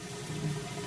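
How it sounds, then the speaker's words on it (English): Whirlpool Cabrio Platinum washer draining water during its first rinse cycle, a steady low rushing flow with a faint hum, close and continuous, with no talk. "You can hear that drain running real good."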